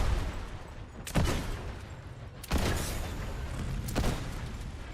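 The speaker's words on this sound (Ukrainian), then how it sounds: "Шмаляють." Bursts of gunfire in a shooter video game, three sharp volleys spaced a second or so apart over a steady background, with a brief voice in between.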